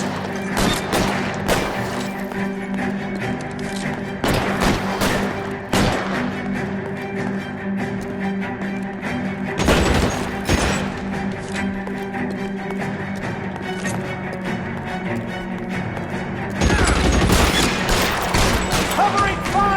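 Dense bursts of gunfire in the crime video game L.A. Noire, irregular shots and rapid volleys cracking loudly over several seconds with heavy thuds near the end, no talk.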